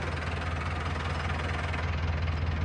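A tractor loader's engine idles nearby during a manure-hauling job, a loud, steady diesel rumble with an even low throb and no pauses.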